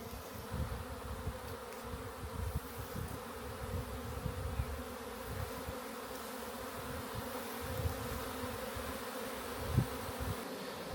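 A honeybee swarm drones around the beehive as many bees return to their old hive, a steady, soft, dense buzzing that holds evenly throughout with no voices.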